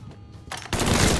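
A shootout in Mafia 3: a short, dense burst of rapid gunfire cracks in close and loud, swelling into a sustained roar after a brief lead-in.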